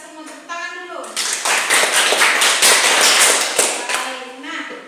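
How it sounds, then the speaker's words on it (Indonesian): A class of children claps hands together, a dense burst of rapid applause lasting a few seconds between bits of a teacher's voice. "Tepuk tangan dulu."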